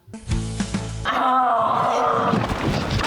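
A voice imitates a lion, starting with a deep, drawn-out growl and breaking into a loud, rough roar that holds for a couple of seconds.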